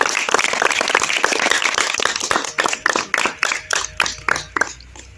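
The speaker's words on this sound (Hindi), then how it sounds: "उनके लिए जोरदार तालियां बजाएं" A crowd at a political rally claps loudly for an arriving party leader, dense applause tapering into a few sparse, separate claps toward the end.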